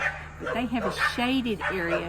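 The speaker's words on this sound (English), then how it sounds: "So sorry about the barking." A small dog barks and yips repeatedly nearby, the sharp barks overlapping and interrupting a woman's ongoing speech indoors.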